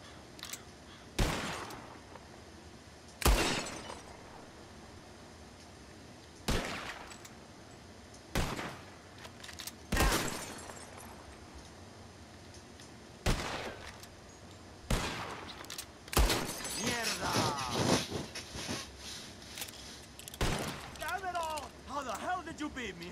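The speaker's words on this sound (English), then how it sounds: "Whoever shoots one of these bottles wins." Revolver shots shattering glass bottles in the Wild West game Red Dead Redemption 2, about ten loud, sharp cracks spaced unevenly, some followed by breaking glass, with people talking between shots.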